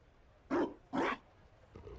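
Dog in Dragon Age Inquisition barks twice, sharp and close, followed by a softer third yelp against quiet background.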